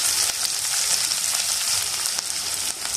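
Sliced onion, green chillies, curry leaves and coriander frying in hot oil, a loud, dense, unbroken sizzle heard up close with no talking.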